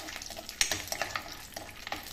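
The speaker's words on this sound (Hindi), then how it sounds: "मूँगफली डाल देते हैं थोड़ा, बस इतने से थोड़ा रोस्ट करते हैं।" Peanuts roast in hot oil with a soft, faint crackling sizzle and quick irregular ticks and pops as they are stirred in the pan.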